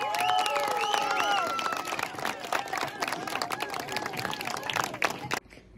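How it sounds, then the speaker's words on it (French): Crowd applause for race podium finishers at a trophy race event, scattered clapping that rises under a few voices talking at first and then continues for several seconds before cutting off abruptly. "On peut les applaudir tout de même."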